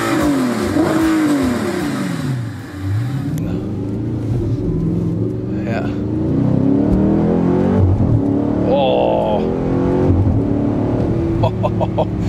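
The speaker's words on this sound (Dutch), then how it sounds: "Ja, dit is een echte sportwagen." An Audi R8 sports car drives and accelerates, its engine note climbing and dropping through repeated rev sweeps and gear changes, loud and close from inside, with brief talk in the cabin.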